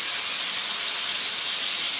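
Dosa batter poured onto a worn non-stick pan sizzles with a steady, loud, broad hiss that holds evenly throughout, with no voices.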